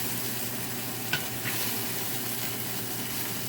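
Pieces of food frying and browning in a pan after long cooking, a steady broadband sizzle with a couple of brief spatters, close and continuous, no talking.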